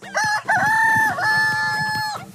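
A rooster crows loudly and close up, one long sustained cock-a-doodle-doo call with a brief cluck at the start, standing alone without any talk.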